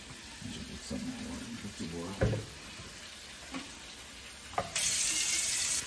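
Tap water runs into a pot of oxtails, broken splashes and pouring, then a strong steady gush near the end; some sizzling and clatter in between.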